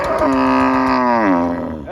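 A single long, loud cow moo, steady and close, with a falling pitch near the end, at a cattle market; no talking.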